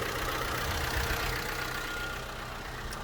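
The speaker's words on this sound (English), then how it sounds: "I'm just going to leave the engine to run a little bit" A Vauxhall Corsa C 1.2 Twinport petrol engine idles at close range, a steady even rumble that holds throughout with no voices.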